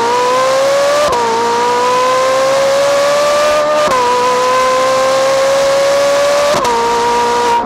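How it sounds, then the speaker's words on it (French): Ferrari 458 Italia V8 revving hard on a track, a loud, high-pitched wail climbing steadily through the gears, broken by three quick shift dips, continuous and close with no talk. "Le moteur prend 9000 tours minute au maximum."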